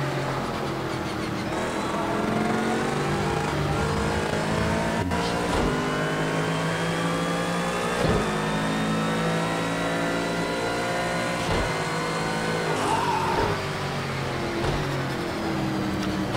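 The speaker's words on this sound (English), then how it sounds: "Really love the way you hear the traction control kicking on this game" Racing car engine in an Xbox racing game, with traction control juddering at slow speed: a continuous loud engine drone with rising and falling revs and a rough stuttering texture throughout, no voices.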